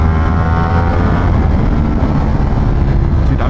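Motorcycle engine braking while riding: a loud, steady, close engine drone mixed with heavy wind rush that holds without break, with no talking.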